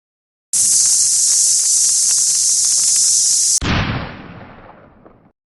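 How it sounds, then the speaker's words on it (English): Cannon in Sonic 3 & Knuckles: a bright, steady hiss runs for about three seconds, then a sudden booming blast fades into a long rumbling tail. "Alright, Jasmine, light up the cannon."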